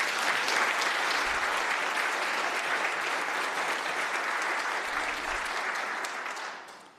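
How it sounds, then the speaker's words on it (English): Sustained applause fills a provincial legislature chamber, members clapping steadily and loudly for several seconds before tapering off at the end. "So I do hope the House join me in giving a good round of applause"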